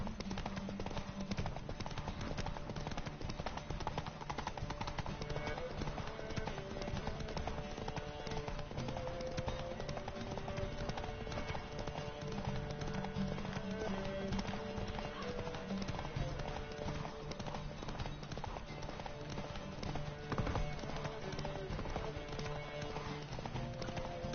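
Galloping horse hooves in the video game The Witcher 3 give a steady, fast clip-clop that runs continuously and evenly under a constant music and ambient game bed.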